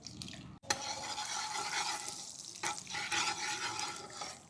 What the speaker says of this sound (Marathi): आता आपण इंदोरी पोह्यांना तडका देऊन घेऊ